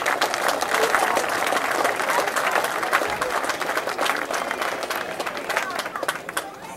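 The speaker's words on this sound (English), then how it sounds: "give yourself a round of applause for all that you've done" An audience at a 2006 field dedication breaks into sustained applause, a dense wash of many hands clapping loudly throughout with crowd noise mixed in.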